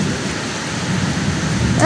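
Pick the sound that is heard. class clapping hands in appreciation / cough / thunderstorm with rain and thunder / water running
thunderstorm with rain and thunder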